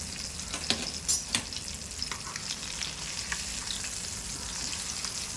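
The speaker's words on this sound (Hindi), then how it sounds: "फ़िश को अब हम पलटी कर लेंगे" Marinated fish for Arabic fish mandi fries in a pan with a steady, close sizzle, broken by a few sharp clatters near the start and no voices.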